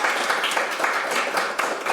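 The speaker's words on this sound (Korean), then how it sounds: "이제 박수 한 번만 좀 치시면서 서로" Group clapping from attendees at a National Assembly forum on building an open AI ecosystem, a steady dense patter of hands lasting the whole moment, moderately loud with faint voices mixed in.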